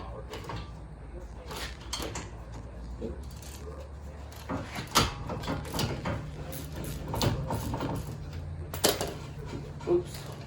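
A Snap-on ratchet clicking while loosening a 17 mm caliper bracket bolt during a brake pad job on a 2018 Toyota RAV4, with close, uneven bursts of mechanical clicks and clanks over a low workshop hum.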